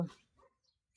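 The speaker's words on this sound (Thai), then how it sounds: "ก็เห่า" A dog gives one short, close bark at the very start. A few faint, scattered noises follow, then a small click at the end.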